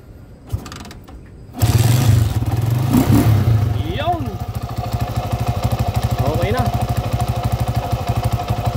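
A Honda TMX155 motorcycle with a points ignition and a stiff kickstart comes to life after a few faint clanks. It settles into a loud, close, steadily pulsing idle, with a couple of brief throttle blips along the way.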